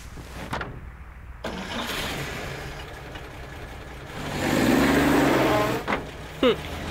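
A car engine in the horror game White Night sputters to life and idles, swelling into a louder rumbling rev toward the end, with a few sharp knocks mixed in under faint talk.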